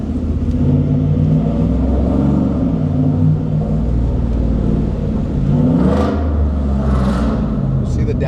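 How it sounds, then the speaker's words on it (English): A 2022 Ford F150 single cab engine rumbles and revs through paddle-shift downshifts, a steady loud drone with rising and falling pitch sweeps near the end, heard from inside the cab. "See the downshifts, they sound badass like when you do it"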